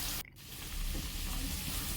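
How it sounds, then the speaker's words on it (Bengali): Potatoes frying in mustard oil in a wok with onion, garlic and ginger, a steady close sizzle and crackle that briefly dips near the start, then continues evenly. "আলু হাফ ভাজা হয়ে গেলে দিলাম পেঁয়াজ, রসুন ও আদা ছাঁচা এবং সেগুলোর সঙ্গে আলুগুলো আরও ভালোভাবে ভাজলাম"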